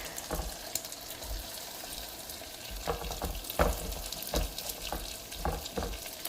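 White onions sizzle and crackle in melted cooking butter for tomato rice, a steady fry with scattered sharp pops and stirring clinks throughout, up close and with no talking.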